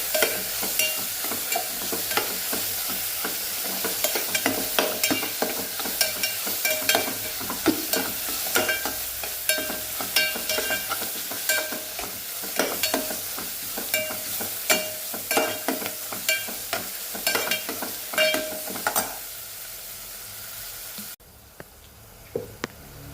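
An onion mixture for a fenugreek-leaf palya fries in a pan, sizzling steadily while a spatula scrapes and stirs in quick repeated strokes, then the sizzle fades near the end.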